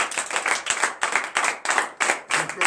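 Several people clapping together in a steady, rhythmic beat during a morning prayer service, loud and close, with faint voices underneath.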